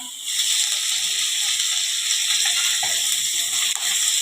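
Curry leaves go into hot oil with garlic and green chilies for a kadhi tempering. A dense, steady sizzling hiss crackles loudly and continuously throughout.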